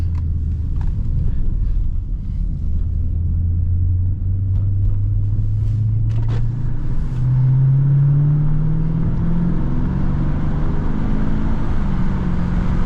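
A Dodge Challenger 392 Shaker V8 builds from a deep steady rumble into a rising engine note under light throttle, loud and continuous from inside the car, with no voices.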